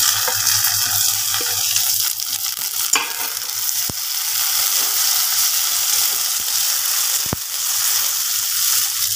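Browned onions frying in a pan as tomatoes go in for a knife fish curry, giving a steady close sizzle with a low hum and a few sharp clatters, no talking.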